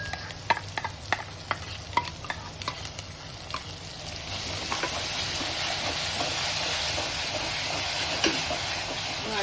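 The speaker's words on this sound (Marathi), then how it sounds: "वाटण ह्याच्यामध्ये छान आपण परतून घ्यायचंय।" Roasted masala paste is stirred and sautéed in a pan for a village-style egg curry, with spoon scrapes clacking in a steady rhythm at first, then a broad, continuous sizzle swelling up close.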